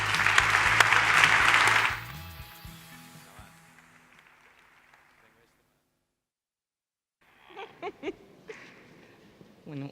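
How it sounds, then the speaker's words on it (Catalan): Audience applause at a mobile industry awards ceremony. A loud burst of crowd clapping lasts about two seconds, then fades into a decaying tail and silence, followed by scattered sounds later. "Un aplaudiment, sisplau, Teresa."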